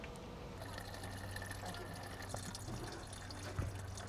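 A reddish mixture of alcohol and oil pours steadily into a container, a continuous liquid trickle over a low background hum, with faint murmuring in the background.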